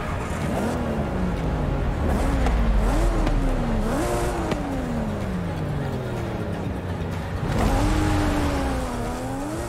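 Toyota Supra in Forza Horizon 5 drives with a loud, continuous engine that rises and falls through gear changes and revs, tires squealing, close and dense throughout.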